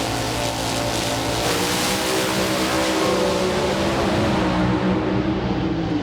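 A Tasca Ford drag racing car roars down the strip at a drag racing event at about 259 mph, a loud, sustained engine scream that sweeps past and fades toward the end.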